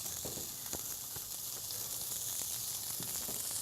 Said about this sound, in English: Just going to sear it on both sides, and then we'll finish it in the oven.